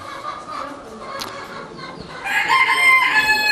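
At a regional poultry show, a rooster crows loudly and close in the second half, after a stretch of scattered clucking and hall chatter from other fowl.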